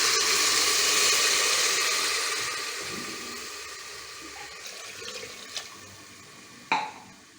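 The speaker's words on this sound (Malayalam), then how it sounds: "ഇനി നമുക്കിതിലോട്ട് പരിപ്പ് വേവാൻ ആവശ്യമുള്ള വെള്ളം കൂടെ ചേർത്ത് കൊടുക്കാം." Water is poured into a pressure cooker holding toor dal for sambar, starting as a loud, steady splashing stream that gradually thins out, followed by a few light clinks near the end.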